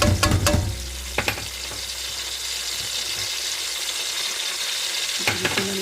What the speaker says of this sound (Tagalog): Ilalagay na natin itong ating bawang.